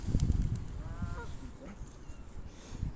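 White geese honk in a park during bird feeding, a few nasal calls rising briefly over steady low rumble and background noise.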